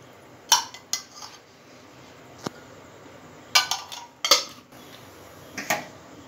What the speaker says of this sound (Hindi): ये हमने कुकर लिया है, कुकर अभी हमारा गर्म हो गया है। अभी इसके अंदर हम देसी घी डालेंगे।